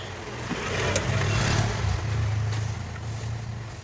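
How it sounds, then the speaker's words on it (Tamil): A Bajaj CNG BS6 engine fires up and settles into a steady, close idle. A low rumbling hum builds quickly and holds, with faint mechanical ticks over it. "இப்போ வண்டி ஸ்டார்ட் பண்ணி பார்க்கலாம்."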